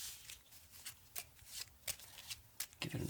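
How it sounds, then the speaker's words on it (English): Playing cards being shuffled in a series of quick riffling bursts, close and crisp, with brief pauses between each. "give it a nice shuffle"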